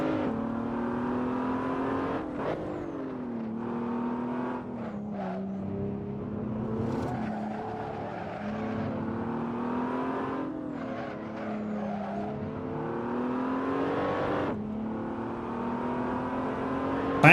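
Race car engine in an F1 racing video game, a steady high whine that climbs and drops through gear changes and corners, with tire squeal and downshift blips, loud and continuous without talk.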